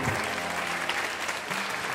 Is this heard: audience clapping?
yes